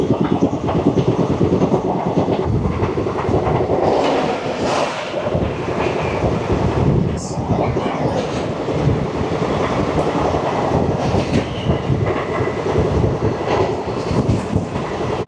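Paharia Express train running on rails between Mecheda and Bagnan, a loud, steady rumble with continuous clattering of wheels over track joints throughout, heard from close by on board with no talking.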